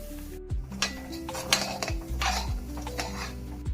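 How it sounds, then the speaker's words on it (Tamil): Samba rava being roasted in a hot kadai: repeated metallic scrapes and clanks of a ladle against the pan, stirring in quick bursts with a faint sizzle, close and without speech. "கடாய் ஹீட் ஆயிடுச்சு இதில் சம்பா ரவாவை வறுத்து எடுத்துக்கலாம்"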